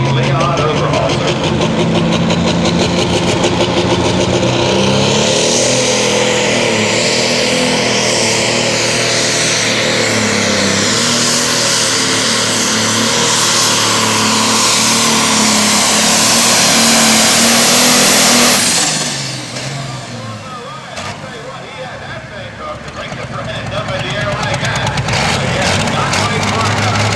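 A John Deere pulling tractor called Going Bouquet roars at full throttle through a nostalgia super/pro stock tractor pull, a loud sustained blare for about eighteen seconds before cutting to idle, with an announcer's voice over it.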